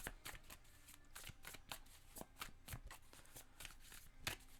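Tarot cards being shuffled close up, a steady run of crisp riffling snaps and papery slaps repeating throughout with no talk.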